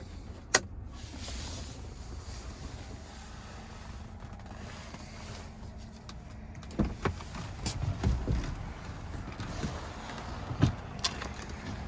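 Sunroof of a 2014 Chevrolet Silverado LTZ Z71 crew cab truck opening with a steady electric motor whir inside the cab, ending in a few soft clunks and thuds.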